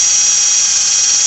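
A power drill with a cleaning attachment scours surface rust from the rear brake disc of a Kia Ceed, producing a steady, loud, high-pitched whine that holds unbroken throughout with no talking.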